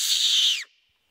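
A fox whistle blown with the tongue pressed against its back gives one loud, high, steady squealing whistle lasting about half a second, then cutting off sharply with a faint tail.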